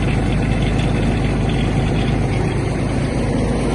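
A Kubota GB-200 mini tractor engine running, a loud, steady, close drone with constant low rumble and no variation or speech.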